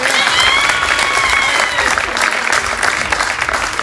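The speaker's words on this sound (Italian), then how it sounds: "Voglio l'applauso forte." Party guests at a birthday celebration clap loudly and continuously, a thick wash of applause with some whistles and voices mixed in.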